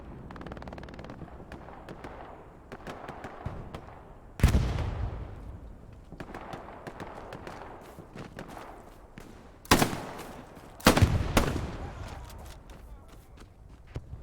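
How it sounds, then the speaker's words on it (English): Shotgun blasts ring out during a competitive team video game firefight: three sharp, loud reports spaced several seconds apart, each fading quickly, over a continuous bed of quieter gameplay noise and footsteps. "Shotgun missed 2 of its shots."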